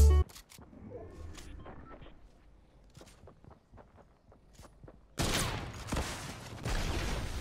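A pump shotgun in the video game Fortnite: one sharp blast opens, followed by scattered clicks and footsteps, then a loud, close burst of gunfire that continues to the end.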